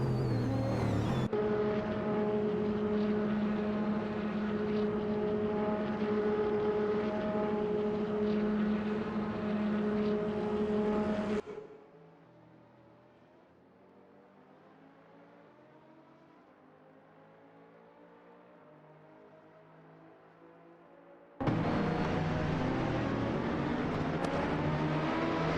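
Racing car engines roar steadily in a video game race, which includes a BMW V12 LMR and an Audi, dropping to a quieter, more distant hum midway before the loud engine drone returns.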